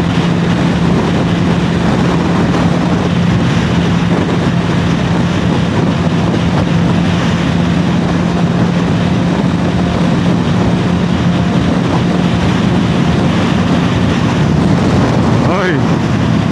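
Strong wind buffeting a rider on a motorcycle at highway speed in Edmonton, Alberta, with gusty crosswind from passing trucks, a loud continuous roar filling the whole clip with a steady low engine drone underneath.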